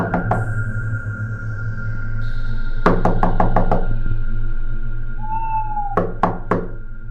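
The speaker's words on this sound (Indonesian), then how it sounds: "kulanjutkan dengan mengetuk pintunya" Someone raps on the main door of a shaman's house: a quick burst of about six sharp, loud knocks, then a pause and three more, over a steady droning music bed.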